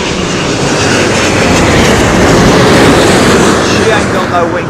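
A Boeing 777-200ER airliner at London Heathrow in gusty wind, a loud close continuous roar of engine noise and buffeting wind filling the whole moment, without letup.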